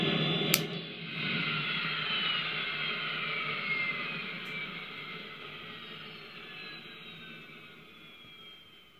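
A jet turbine shutdown played from a sound effects box, opening with a sharp click, then a loud whining roar that slowly falls in pitch and fades away over several seconds.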